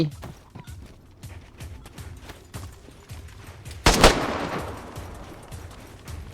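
Gunfire in the survival video game DayZ, a series of sharp shots followed by a louder blast near the middle, all mixed with voices talking.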